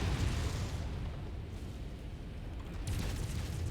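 In the MechWarrior 5 game, a mech's ammunition cooks off in a deep, continuous rumbling explosion that swells again near the end and fills the whole moment with heavy low booms.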